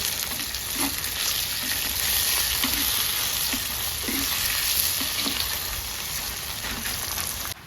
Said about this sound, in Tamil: இதை வந்து இப்போ இறாலை இதில் சேர்த்துருவோம்.